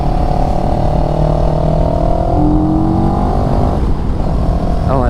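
A CF Moto CLX 700 motorcycle accelerates hard with a quick shifter, its loud, close engine drone rising in pitch through several gear changes over continuous wind rush.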